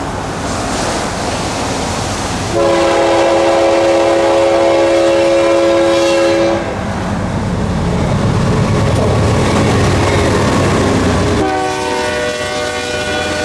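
A BNSF freight train rolls past the Dade City Depot on Florida's S-Line, its loud multi-tone horn blowing in two long blasts over a steady rumble of wheels and cars that continues between them.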